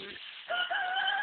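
Roosters crowing at a farm, a short close crow alone over faint background.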